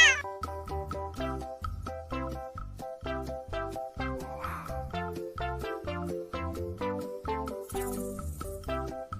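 A cat meows over and over in a steady rhythm to a bouncy children's song melody, close and clear, forming a sung tune built from meows.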